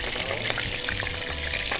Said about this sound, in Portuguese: Aí depois você vai fazer as batatas na mesma frigideira para aproveitar mesmo o fundinho da panela?